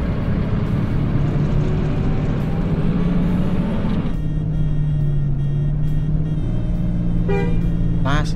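A Sugeng Rahayu Jetbus 5 intercity bus cruising a road between Ciamis and Banjar, with steady engine and road rumble throughout and a loud horn toot sounding near the end.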